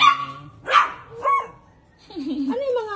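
Several dogs bark in short, loud bursts at a home, with a yip and a whimper mixed in, while people talk in the background.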